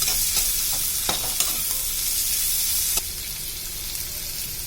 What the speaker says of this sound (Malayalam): ഞാനതിന് കുറച്ച് സബോള നമുക്കൊന്ന് വറുത്തിട്ട് ബിരിയാണിയുടെ മുകളിലിടാം